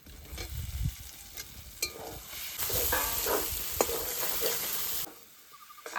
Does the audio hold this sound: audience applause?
no